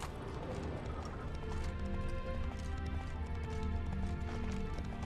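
A horse gallops in The Witcher 3, giving a continuous rapid pattern of hoof clip-clop over a busy game soundscape with music-like tones and no talking.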